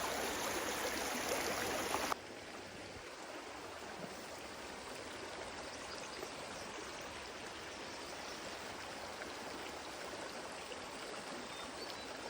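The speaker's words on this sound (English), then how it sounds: "This is the larger little rivulet area." A small rivulet flows through a forest in Sequoia National Park, giving a continuous, even rushing and trickling close by with no voices. It runs louder for the first two seconds, then settles to a steadier murmur.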